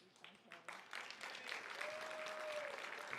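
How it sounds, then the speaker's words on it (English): Applause breaks out from an audience at a women's appreciation event honoring awardees, the clapping building from scattered bursts into a steady, dense patter that holds to the end. "Please join me in a big round of applause."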